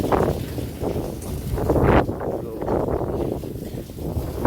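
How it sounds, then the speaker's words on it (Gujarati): Steady, loud summer storm wind roars and buffets the microphone throughout, with gusty surges and rustling underneath. "બહુ પવન છે"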